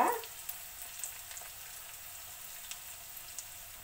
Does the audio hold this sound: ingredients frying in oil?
yes